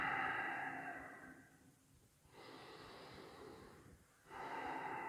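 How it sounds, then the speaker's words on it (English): A deep, slow breath taken while seated upright in a yoga pose, hands pressed together and elbows against the knees; a long airy inhale and exhale sound close, with a short pause and another breath beginning. "We're going to take a big breath here."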